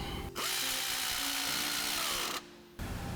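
A power tool tightening shock bolts on a Polaris RZR PRO XP4 Ultimate during a spring kit install, one sustained buzzing run of about two seconds with shifting pitch, close up, then a short pause and restart.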